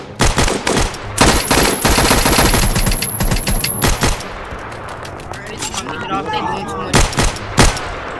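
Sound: gunfire in Roblox video game

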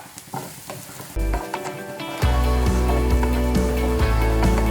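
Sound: onions with curry leaves frying and being stirred in a pan

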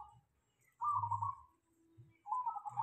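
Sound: perkutut zebra dove singing

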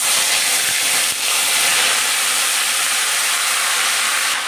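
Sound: leafy greens added to hot mustard oil, sizzling

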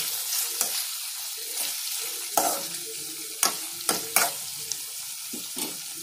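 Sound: stirring semiya upma in a pan

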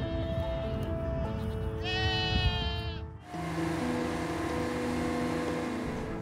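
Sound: goats bleating

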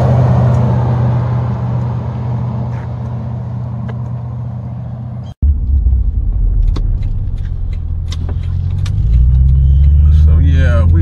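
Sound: Toyota Tundra 5.7 liter engine running

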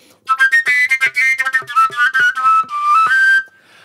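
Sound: overtone flute playing

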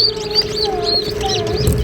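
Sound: newly hatched chicks chirping

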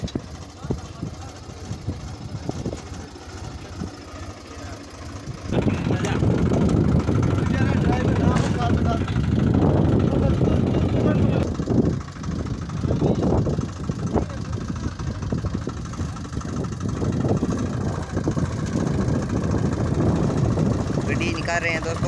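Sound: tractor engine towing a vehicle

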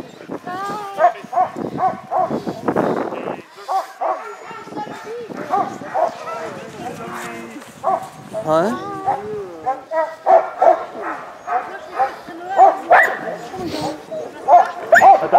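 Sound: sled dogs barking and yipping

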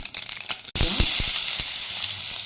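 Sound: mustard seeds and spices frying in hot oil

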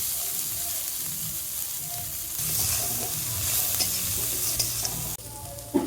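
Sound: chopped kolai greens added and stirred in frying pan

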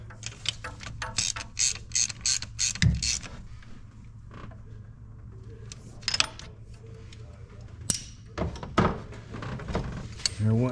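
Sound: ratchet tightening a spark plug into a GMC truck engine

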